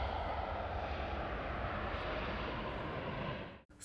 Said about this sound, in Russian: Небольшое ожидание и Боинг взлетает, унося верующих к главной святыне ислама.